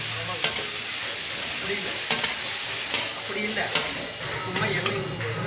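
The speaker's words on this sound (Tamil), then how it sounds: "வேணுங்கிற அளவுக்கு கடைசியாக நல்லெண்ணெய் ஊற்றி கலக்கிக்கோங்க" Tomato idli pieces are stirred with sesame oil in a hot pan, a continuous sizzle broken by regular scraping strokes of the spoon; a voice speaks briefly over the frying.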